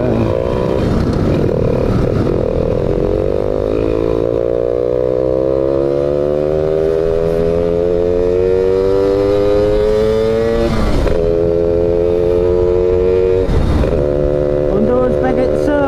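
A Yamaha F1ZR two-stroke motorcycle fitted with a yeis exhaust revs hard and close, its buzzing note climbing steadily through a long pull, with a couple of sharp throttle blips near the end.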